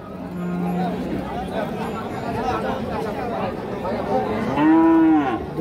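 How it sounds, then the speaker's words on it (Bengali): Cattle moo at a busy Rajshahi livestock market, one long low moo rising near the end over steady crowd chatter and talk. "দুই দাঁত বয়সের গাভী"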